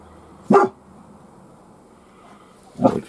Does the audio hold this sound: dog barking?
yes